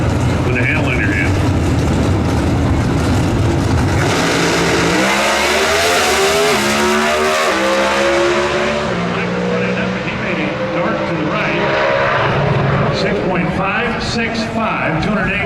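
NHRA Pro Stock drag race cars accelerating hard at Sonoma, a loud, sustained engine roar with rising, shifting pitch, mixed with commentary voices throughout.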